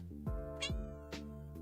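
Steady harmonic tones are broken by a few short, sharp vocal bursts that may be a cat's meows. No one speaks.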